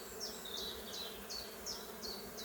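A honeybee colony hums steadily at a well-organised hive, with foragers returning laden with pollen; several louder bee buzzes swell and pass close by at regular intervals over the continuous drone.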